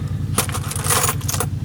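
A bunch of keys jangles and clinks close by in a workshop during a rental renovation, several bright metallic rattles in quick bursts over a low steady engine or motor hum.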